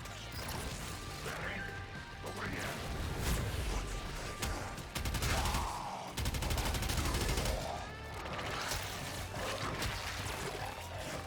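Gunfire rattles in the Warframe video game, with loud rapid bursts, mechanical clanks and crashing impacts coming in waves, and someone talks briefly over the action.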